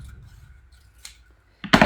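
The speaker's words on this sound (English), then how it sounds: "Cutting up these last two here. Maybe you're faster at scissors than I am" Scissors cut through paper for a watercolor sculpture craft, a few quiet close snips followed by a louder crisp cut at the end, with no talk.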